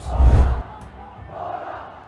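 Spectators cheer and shout in a burst at an under-19 schoolboy water polo match, loud at first and then fading into a lower, steady crowd murmur.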